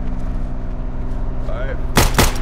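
Two loud gunshots ring out close together near the end of a stretch of steady engine rumble in the Unturned video game, during a street-racing roleplay session.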